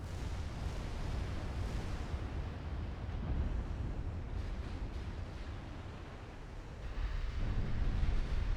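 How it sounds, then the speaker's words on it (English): Battleship secondary guns firing in the naval warfare game Ultimate Admiral: Dreadnoughts, heard as a continuous dense roar of rumbling booms and blasts, loud and sustained with no talk over it. "And the secondary guns on the battleships,"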